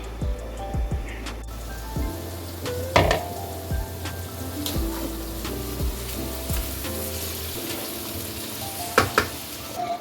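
Gobi gosht, a cauliflower and meat curry, sizzles in a pot with a soft, even frying crackle and scattered pops and small clinks, fairly quiet and close, with no talking.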